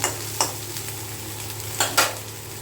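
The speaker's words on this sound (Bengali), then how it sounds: "এবার দেখো মশলার সাথে চালটা আমরা খুব ভালো করে ভেজে নেব" Rice fries with spices in a pan, giving a steady low sizzle broken by a few scraping stirs of a utensil, close up with no talking.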